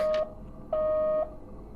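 Two steady electronic phone tones from the Deadly Premonition video game, a short one followed by a longer half-second one, sounding close and clear with no voices over them.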